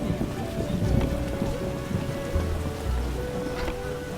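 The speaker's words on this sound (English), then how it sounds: "I get sad when it rains." Rain falls steadily in The Witcher video game, a dense close patter on surfaces with low thunder rumbling beneath.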